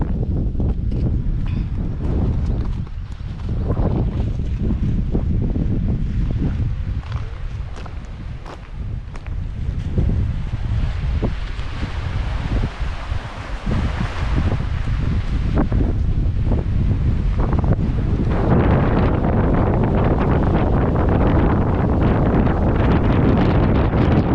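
Strong wind blows outdoors in the green hills of Attappadi, roaring continuously and buffeting the microphone for the whole stretch with no break.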